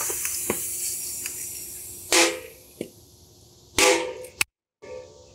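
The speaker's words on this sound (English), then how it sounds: "So if I have this set up correctly, this should hypothetically pop onto the rim straight away." A tubeless bike tire snaps onto the rim bead as a Topeak Joe Blow Booster releases its charged air: a hissing rush of air with sharp pops and cracks, two louder bursts and a final crisp snap, no talking.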